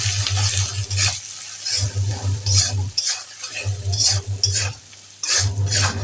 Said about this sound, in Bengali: হলুদ, লঙ্কা গুঁড়ো দিয়ে নাড়বো।